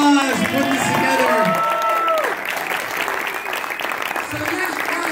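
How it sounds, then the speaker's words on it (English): Audience applause for Kory, the organiser of a Teenage Mutant Ninja Turtles 2 fan event with Ernie Reyes Jr and Nick Palma, a steady loud round of clapping mixed with cheering voices that eases to a lower level partway through. "let's give Kory one big round of applause for putting this together"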